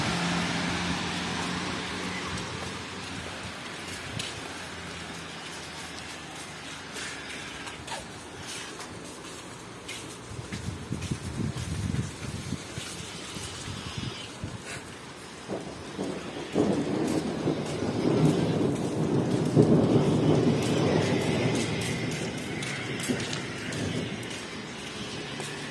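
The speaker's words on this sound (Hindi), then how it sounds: "सऊदी अरबिया में जो तगड़ी बारिश हो रही दो तीन दिन से" Steady heavy rain pours throughout in Saudi Arabia, with low rumbles of thunder swelling in the second half; no voices.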